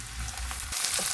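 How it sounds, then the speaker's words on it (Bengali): Small shrimp frying in hot oil in a kadai, a steady close sizzle that swells louder partway through, with light stirring scrapes. "চিংড়ি মাছগুলো ভেজে নেব,"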